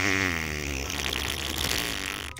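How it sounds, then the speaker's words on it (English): A long, loud, buzzing fart with a wobbling pitch rings out alone for about two seconds in Roblox, then cuts off sharply at the end. "I'm about to let out a mean fart."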